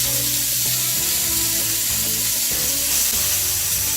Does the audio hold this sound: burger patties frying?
yes